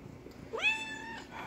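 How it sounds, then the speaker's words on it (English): A cat gives one clear, rising meow lasting about half a second, fairly close, over a faint room hum with no voices. "here's my cat on top of the other tank"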